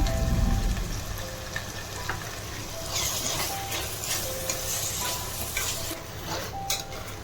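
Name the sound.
drumstick pieces cooking in a pan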